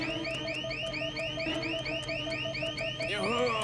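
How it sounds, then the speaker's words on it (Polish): A Lego Hero Factory cartoon alarm blares with rapid, repeating rising electronic whoops, loud and continuous, shifting pitch near the end. "Alarm, coś się zbliża."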